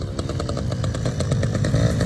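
A 1997 Yamaha PW50 dirt bike engine revs loudly and close by, a buzzy small two-stroke drone that holds steady with slight rises in pitch and no talk over it.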